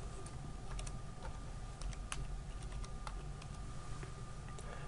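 Rapid clicking of keys on a computer keyboard as a folder name is typed, steady close tapping with no talk.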